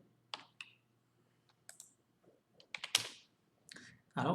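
Computer keyboard keys tapped in short irregular bursts while entering a Linux shell command, crisp close clicks separated by brief pauses, with no talking over them.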